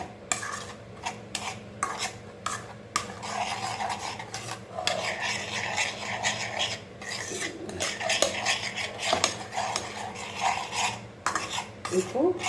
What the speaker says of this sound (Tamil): அது ஸ்டவ்வில் வச்சு கிளறதுக்கு முன்னாடி நம்ம இதை எல்லாத்தையுமே கரெக்டாக கலந்து